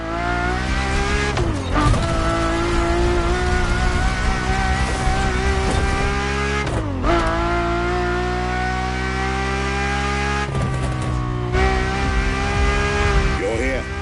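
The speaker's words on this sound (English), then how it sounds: "nothing less than a road-legal Formula One, the Ferrari F50." Ferrari F50, a road-legal Formula One car, its engine holding a loud, steady high-pitched note with a few sharp shifts in revs, close by, with faint voices underneath.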